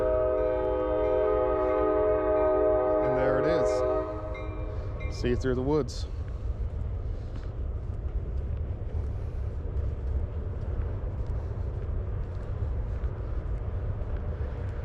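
A train sounds its horn in several long blasts, then rumbles past near a wooded hiking trail along the Buckeye Trail, a steady low roar continuing throughout while a hiker speaks briefly.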